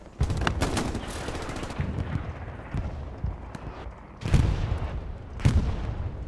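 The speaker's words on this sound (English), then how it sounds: "Sounded like an Axis bombing run." Explosions and heavy gunfire from an Axis bombing run in the video game Hell Let Loose, on the Stalingrad map during a competitive match: loud booming blasts at the start and again near the end, with rattling shots and rumble between them.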